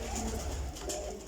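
High-quality teddy pigeons cooing close by, soft low repeated coos over a faint, steady background.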